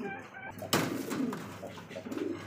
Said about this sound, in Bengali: দেখতে পাচ্ছেন এখানে আরো এক জোড়া বিউটি হোমা কবুতর